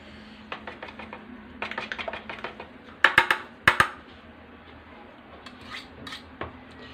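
Baghrir batter with caramel flavouring being mixed in a bowl: rapid, irregular clinks and taps of utensil against the bowl, with a cluster of sharper knocks in the middle and no talking.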